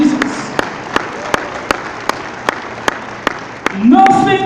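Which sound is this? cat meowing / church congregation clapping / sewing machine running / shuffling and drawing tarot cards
church congregation clapping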